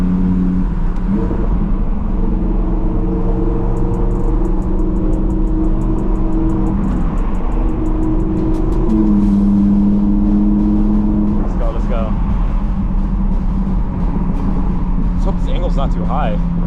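Loud Audi R8 engine heard from inside during a night drive, a steady low rumbling drone with rising and falling engine tones, close and continuous.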